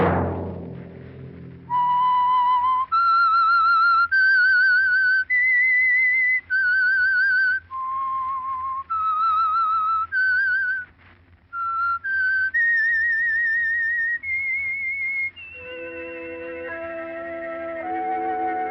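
A person whistles a melodic tune alone, clear sustained notes in a steady rising and falling phrase, ending as soft music takes over.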